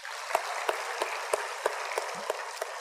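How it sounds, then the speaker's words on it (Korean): A church congregation at a Full Gospel service applauds in praise, with broad steady applause and an evenly paced beat of louder unison claps running through it, fairly close and with no talking. "그 믿음을 우리에게 주신 우리 주님께 영광의 박수를 드리겠습니다."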